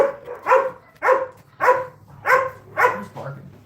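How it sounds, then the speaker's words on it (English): Dogs barking at a vegan dog rescue, six evenly spaced barks about every half second, fairly close and loud, with quiet pauses between them. "Who's barking?"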